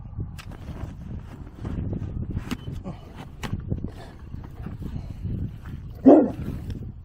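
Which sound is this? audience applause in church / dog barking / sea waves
dog barking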